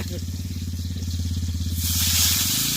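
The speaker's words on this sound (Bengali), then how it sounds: "তো আমাদের কোঁড়ায় তেল উঠে গেছে এবার আলু ভাজা হবে" Potatoes going into hot oil in a large wok over a stove, a pulsing low rumble giving way to a loud, bright burst of sizzling near the end.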